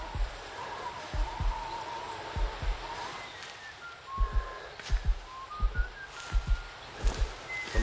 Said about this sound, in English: Somebody's whistling, but we don't see anybody.